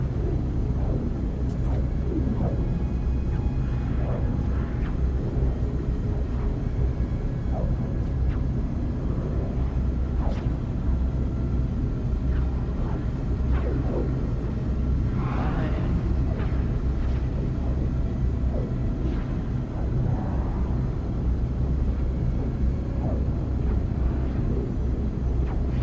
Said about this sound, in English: I didn't realize like the storm, would have audio, you know, like it sounded like a storm.